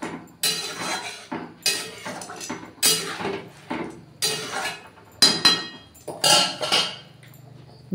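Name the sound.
lid placed on a pot of duck egg curry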